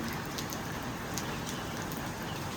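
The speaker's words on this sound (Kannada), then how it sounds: "ಎಷ್ಟು ಮಳೆ ಬಂದಿದೆ ಅಂದರೆ" Heavy rain pours steadily at an Andaman beach, a dense, constant hiss of drops striking surfaces with occasional sharper patters, close and continuous with no voices.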